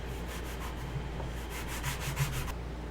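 Sandpaper of 220 grit rubs by hand over the grip of a prop laser pistol from Fallout 4 in short, quiet, repeated back-and-forth strokes against faint background hum.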